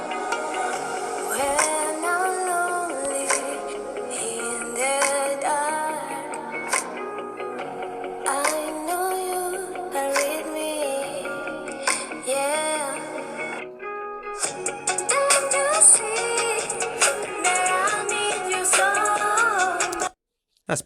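Music plays loud and full through the built-in downward-firing speakers of a Lenovo Yoga 7i 14-inch 2022 laptop at 80% volume, continuous and dense with steady beats, cutting out abruptly at the end.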